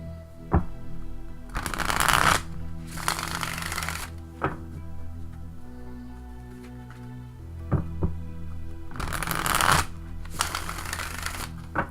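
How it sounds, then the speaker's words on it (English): A deck of tarot cards being riffle-shuffled close by in several quick bursts, with soft taps and thumps of the deck squared up between shuffles. "So let me just shuffle this a few times"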